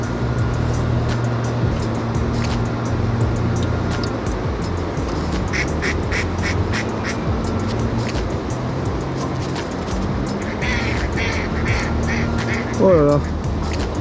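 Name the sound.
ducks quacking and fighting over bread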